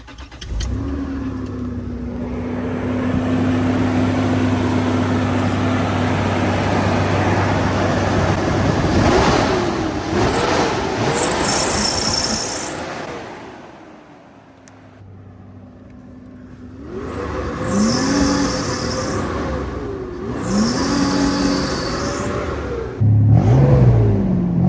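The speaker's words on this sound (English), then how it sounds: "no matter how long it's been sitting, no matter what it's been through, it'll start first time" A Toyota Hilux petrol engine cranks and idles up close, with a steady hum that dips away, then catches again and runs with several rising revs and high whine bursts, loud throughout with no talking.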